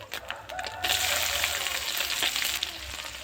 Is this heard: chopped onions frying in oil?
yes